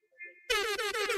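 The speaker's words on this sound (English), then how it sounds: "Stop the air horns." A short, loud air horn blast at an election night watch party, starting abruptly after a faint tone and pulsing in a few quick bursts, close to the microphone.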